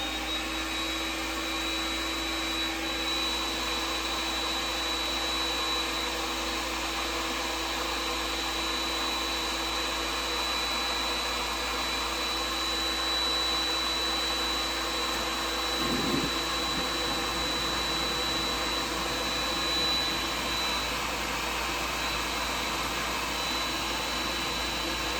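A vintage 1956 Fedders Weather Bureau 6,000 BTU air conditioner runs steadily, giving a continuous broad whooshing drone with a faint high whine, unchanged throughout and with no voices.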